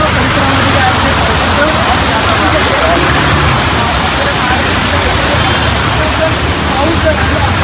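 Heavy monsoon rain pours over a waterlogged Mumbai street, a dense, steady broadband hiss that stays loud and continuous throughout with no pauses.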